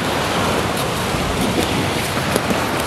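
Ocean waves breaking on a shore, a loud, steady wash of surf with hissing spray and no clear pauses.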